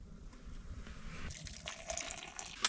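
Boiling water poured from a pot during an outdoor camp cooking session, a soft steady trickle and splash heard faintly and close, ending with a brief louder clink.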